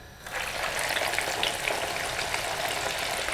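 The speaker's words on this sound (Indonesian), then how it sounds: "Kemudian kita goreng kacangnya." Peanuts with lime leaves and garlic fry in hot oil, a dense, steady sizzle that bursts in suddenly and carries on evenly, close by with no talking.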